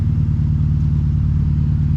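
Honda Accord Type R CL9 engine idling after warm-up, a steady, loud, lumpy low rumble with a pulsing beat, close by and alone.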